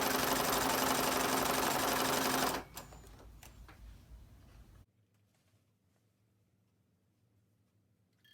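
Sewing machine stitching the hem of a store-bought curtain, a loud, steady mechanical whir for a couple of seconds that stops, followed by a few faint clicks and then near silence.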